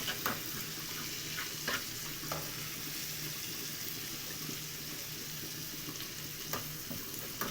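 Dried coriander sizzles steadily in hot frying oil for an okra stew, a continuous dense crackle with a few sharper pops and no voices.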